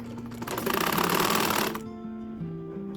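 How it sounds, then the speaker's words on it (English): A sewing machine stitches jacket pieces in a fast, loud burst of rhythmic needle clatter lasting about a second and a half, then winds down to a quiet hum. "Okay, so let's sew."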